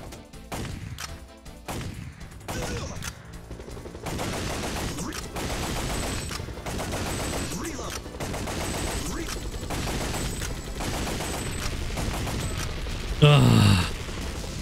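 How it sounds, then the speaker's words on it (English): Rapid gunfire from the Time Crisis arcade shooter, loud bursts of shots and impacts layered over game sounds, with a sharp crash near the end. "Sometimes I've just got to be calm and just take my time with the shots."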